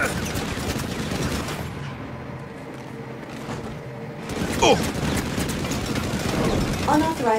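Defense turret in Saints Row (2022) fires in dense rapid bursts amid mixed game noise, with voices talking over the shooting.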